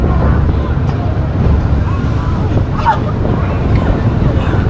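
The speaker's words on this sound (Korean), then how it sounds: "비가 내려서 그런지 파도가 장난이 아니네요" Rough sea waves in the rain surge and wash around a boat leaving a harbour breakwater at Sangsanpo, Jeju, bound for Udo island. The roar is loud, steady and continuous, mixed with buffeting wind noise.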